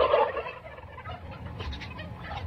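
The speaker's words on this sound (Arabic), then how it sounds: "أكبر ديك رومي في مصر" A very large turkey gobbles loudly and close by, a rapid warbling burst at the start that trails off into softer farmyard noise.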